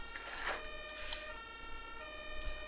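A fire engine siren wails faintly in the OMSI 2 bus simulator video game, a steady, thin electronic tone rising and falling at a distance.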